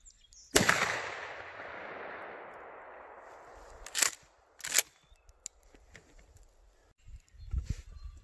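A Remington 870 shotgun fires one loud, close blast with a long, rolling echo fading over several seconds, then two more sharp reports follow in quick succession, with faint clatter afterward.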